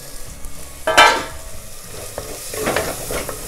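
Chopped carrots and green beans go into a pan of hot spiced oil, setting off a sudden sizzle burst, then softer frying hiss with a few light clinks from stirring, with no talking.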